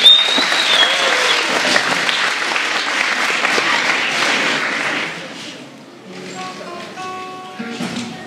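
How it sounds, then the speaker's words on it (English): An audience applauds performers before a cover song, loud sustained clapping that fades out, followed by a short tonal passage as the music begins. "Let's give them a round of applause for encouragement."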